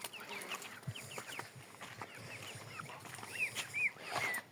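Several geese honk and cackle in short, overlapping calls against a faint outdoor background, some close and some farther off.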